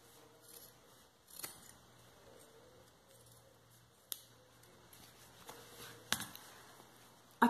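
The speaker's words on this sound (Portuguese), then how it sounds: "Então a gente recorta um pouquinho mais distante." Scissors snipping through fabric while trimming a small earphone pouch, quiet and close, with a few sharp distinct cuts spread across a soft background.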